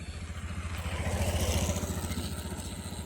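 A motorcycle engine rumbles past at moderate distance, swelling to a peak around the middle and then fading, with faint voices in the background.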